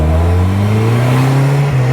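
A supercharged 1275 Super Bugeye accelerates hard on the road, its engine note climbing steadily with a loud, close, continuous drone and a rising pitch, with no voices.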